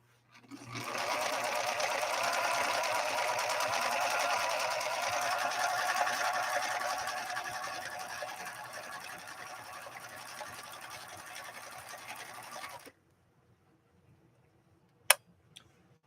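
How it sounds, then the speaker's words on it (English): A rescued Viking Husqvarna 3230 sewing machine sews a blind hem stitch, a steady close motor whir with rhythmic needle clatter running about twelve seconds before stopping, followed by near silence and one sharp click. "So we'll go ahead and do this blind hem stitch now"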